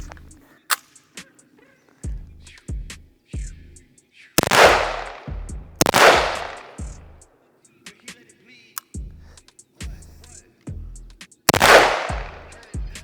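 A Vintorez suppressed sniper rifle fires several loud, sharp reports spaced a second or more apart, each followed by a short decaying tail, with quieter mechanical clicks and handling noises between shots outdoors.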